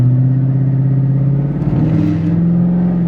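A twin turbo Mustang engine held on a launch controller at about 2200 to 2300 rpm, a loud close droning hum that wavers and climbs slightly midway, then settles at a higher steady pitch.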